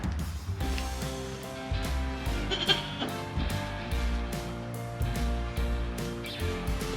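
Several goats bleat repeatedly, loud and close, their calls overlapping with brief pauses and some background rustle.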